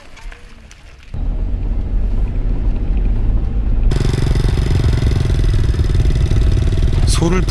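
A motorcycle rides along a long stretch of rural northern Thailand road, starting with a quieter opening before its engine rumble jumps up and then thickens further into a loud, steady, close-up drone that carries to the end.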